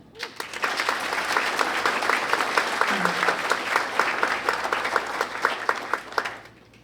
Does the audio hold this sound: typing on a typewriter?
no